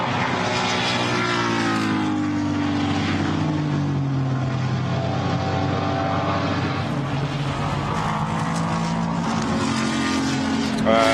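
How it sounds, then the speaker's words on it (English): Ford Mustang GT4 race car from Motorsport 98 rumbling loudly and steadily around the Nürburgring track during qualifying, a deep continuous engine drone with shifting pitch and no break. "Eric Donker making a great rumbling sound in that Ford Mustang from Motorsport 98"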